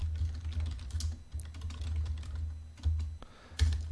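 Fast typing on a computer keyboard while entering text with an Alt X shortcut: a close, steady patter of key clicks with a few short pauses and a couple of louder, heavier presses.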